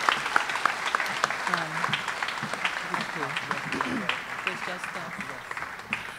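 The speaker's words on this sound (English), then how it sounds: "This ministry deserves a resounding round of applause" An awards ceremony audience gives a round of applause, steady moderate clapping filling the room while a voice talks faintly underneath.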